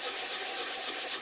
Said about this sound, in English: I'll take a piece of sanding paper and file them down.